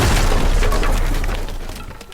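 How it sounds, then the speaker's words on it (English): Loud crashing and splintering as Jason smashes in a weak wooden door in a video game, one heavy impact burst with crunching debris that fades toward the end. "So now I'll start smashing the door in."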